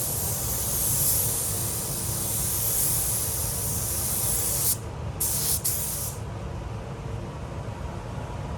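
A spray gun paints over a repaired dent on a Honda Civic in a continuous, close, loud hiss that cuts out briefly twice and then resumes more softly.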